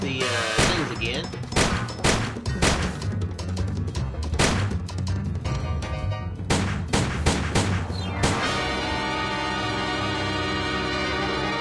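Rapid gunfire in the Sam and Max video game, a dense run of loud sharp shots and bursts over roughly eight seconds, then giving way to a steady backdrop of game music and ambience.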